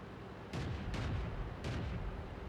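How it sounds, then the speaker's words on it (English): Artillery fire in World of Tanks lands as a series of heavy booming impacts, three deep blasts in quick succession with rumbling tails. "Oh, artillery."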